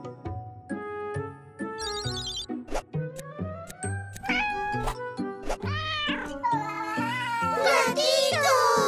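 Cartoon kitten meowing repeatedly in a children's animated series, high plaintive mews rising and falling over bright jingling music and tinkling chimes, growing louder and more insistent toward the end.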